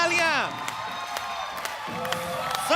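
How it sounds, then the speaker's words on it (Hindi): A studio audience at a comedy show breaks into cheering and clapping, with whoops and shouts over steady applause that carries through the whole moment and swells again at the end. "जोरदार तालियां"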